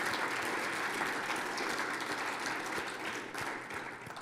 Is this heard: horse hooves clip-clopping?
no